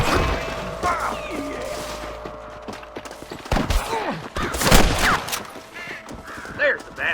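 Gunfire rings out in a Red Dead Redemption shootout, with several sharp shots and a loud burst near the middle, mixed with shouting voices and other game sounds.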